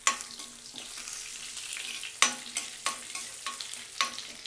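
Dried red chilies frying in oil in a pan, a close, bright sizzle broken by several sharp spatters and stirring knocks.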